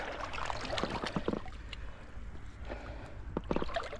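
Quiet splashing and gurgling of a small homemade boat being launched and moving through water, with irregular paddle-like sloshes and trickles, close by and mostly without talk.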